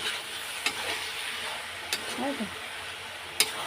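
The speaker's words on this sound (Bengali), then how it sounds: "এবার সব একবারে কষিয়ে নেব।" Spices and vegetables with potato sizzle in a hot kadai while a utensil stirs, with a few sharp metallic scrapes and clinks and a brief faint voice.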